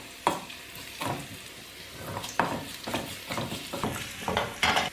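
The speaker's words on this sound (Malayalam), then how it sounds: "ഇനി 2 തണ്ട് കറിവേപ്പില ഇട്ട് കൊടുക്കാം. ഇനി എടുത്തു വെച്ചിരിക്കുന്ന വറ്റൽമുളക് മുറിച്ചിട്ട് കൊടുക്കാം." Curry leaves and cut dried red chilies sizzle in hot oil in a pan, a steady close crackle broken by stirring scrapes and light clatters of the spoon.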